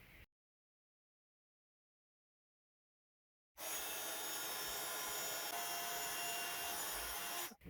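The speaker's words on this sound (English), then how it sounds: "I'm going to pop this through my die cutting machine with some white cardstock." A die cutting machine runs white cardstock through an embossing folder, giving a steady, loud grinding and rubbing drone for about four seconds after a stretch of silence, then stopping abruptly.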